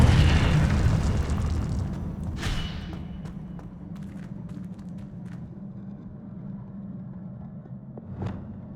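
A fire spell cast in the Hogwarts Legacy video game erupts as a loud, booming burst that slowly decays into a soft crackling roar, with a second smaller flare-up near the end.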